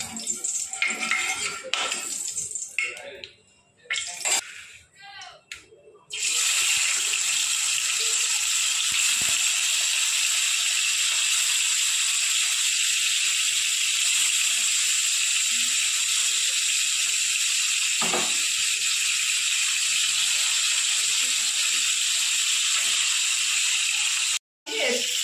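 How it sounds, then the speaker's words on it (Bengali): Fali fish pieces dropped one by one into hot oil in a kadai, first a few clatters and handling knocks, then a loud, continuous, close hiss of frying that holds steady for about twenty seconds. "তেল গরম হয়ে গেছে, এবার এক এক করে আমি মাছগুলো ছেড়ে দেবো।"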